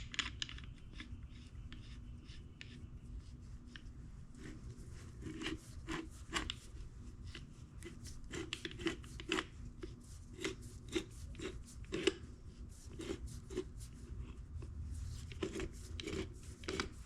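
An oil filter cutter works its way around an oil filter during a Ford Ranger 2.3 oil service, making a steady run of sharp, close scraping clicks with a low hum underneath and no talking.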